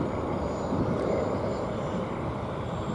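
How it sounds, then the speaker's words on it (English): A Delta airliner flies near DFW Airport, heard as a steady broadband jet roar, moderately distant and even throughout, with no speech. "There's looks to be a Delta flight now."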